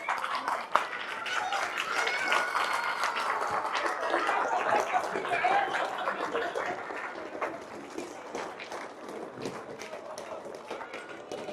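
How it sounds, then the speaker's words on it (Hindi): An audience at an annual Bind Samaj Vikas Sangh gathering claps steadily for a Member of Parliament, dense applause building then slowly thinning out. "तालियों से आप लोग स्वागत करें।"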